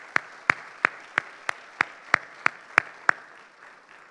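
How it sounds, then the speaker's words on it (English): A single person claps about ten times at an even, moderately quick pace, close and crisp against a quiet room, before stopping, as an audience is asked to applaud sponsors at an education event. "Please give them a round of applause."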